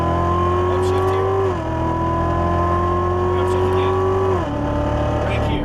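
A Chevrolet Corvette Stingray Z06 engine drones loud and close under hard acceleration on track, its pitch dropping sharply at two upshifts before climbing again.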